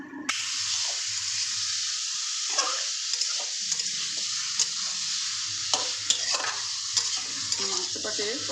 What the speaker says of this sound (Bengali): মাংসটাকে তো কষতে দিলাম।